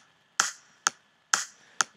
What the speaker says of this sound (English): the clap along with the kick drum, the introduction sounds like this